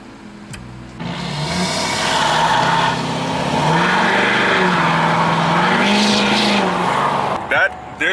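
A deleted and tuned 640hp Ford F250 Super Duty pickup engine roars up hard, revving and pulling through rising gears at close range, loud and sustained, with a brief drop near the end.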